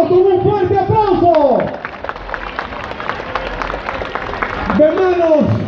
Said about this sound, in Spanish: Soltamos los globos con un fuerte aplauso